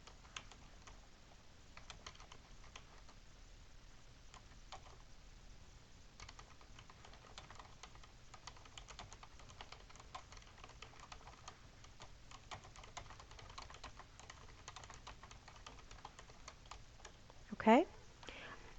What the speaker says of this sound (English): so I'm just typing this.